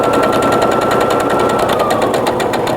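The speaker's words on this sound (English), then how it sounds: "I'm just going to keep stitching all the way down" Sewing machine stitching a French seam along a pillowcase, a loud, steady, rapid mechanical chatter running continuously without pause and no talking.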